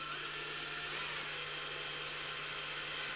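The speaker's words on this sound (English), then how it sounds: "You start the drill up, let the drill do the work for you" A small power drill bores a hole through the sealed end of a water pasteurization indicator, giving a steady, close whine over a constant low hum, running without a break and with no talking.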